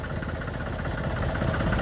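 A tractor engine idles while hauled away by a municipal garbage-cleanup crew, a steady low rumbling chug close by, unbroken for the short stretch, with no talking over it.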